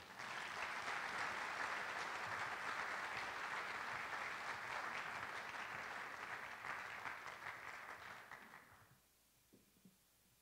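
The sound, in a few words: audience applause welcoming a lecturer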